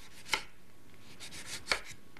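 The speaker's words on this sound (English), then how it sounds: "Now, I'm going to add some lemon to this, and I want to do whole slices." Two sharp knife cuts through a lemon on a cutting board as whole rounds are sliced, a crisp chop followed by a second about a second and a half later, close and otherwise quiet.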